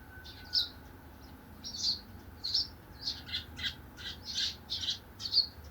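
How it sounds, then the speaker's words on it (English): Spring birds call in a quiet outdoor setting, a series of short, bright chirps and squawks repeating at irregular intervals, faint and somewhat distant over a soft background hush. "let's take a moment to listen to the sound of spring birds"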